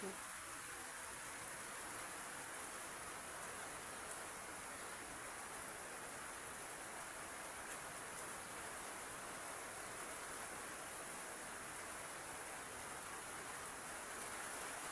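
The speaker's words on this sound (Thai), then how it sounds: "ฝนตกลิ้นนะพี่น้อง ฝนตกลิ้นเมื่อมือเมื่อขึ้น" Faint, steady hiss of light rain falling, continuous and even with no other sounds.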